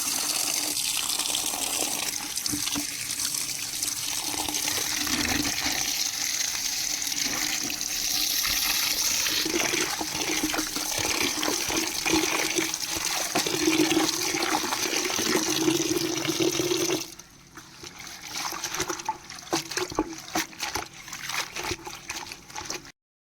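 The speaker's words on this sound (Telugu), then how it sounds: "ఇప్పుడు మళ్ళీ ఇంకొకసారి వాటర్ పట్టుకుని వాష్ చేసుకున్నాము." Running water splashes steadily as coriander stems are rinsed in a sink, a loud continuous gush that cuts off abruptly near the end and gives way to lighter trickling.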